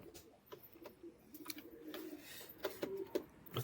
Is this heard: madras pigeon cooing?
yes